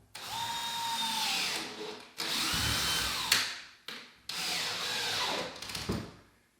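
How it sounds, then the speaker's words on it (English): A power drill drives screws through Hardie Backer cement board into wall studs in a walk-in shower, giving three long whining bursts with grinding bites and short gaps, close and loud. "I like to go ahead and put a screw in at every single stud."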